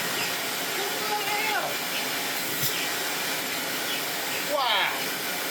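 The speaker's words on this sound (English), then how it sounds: "Where's our bench vac? Here's our bench vac." A handheld bench vacuum runs steadily throughout with a broad, constant whirring hiss, loud and close, with brief bumps and a rising whine near the end, alongside faint voices.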